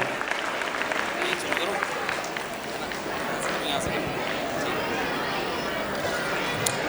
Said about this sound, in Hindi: जोरदार तालियों से स्वागत कीजिए श्री शिवम सर का।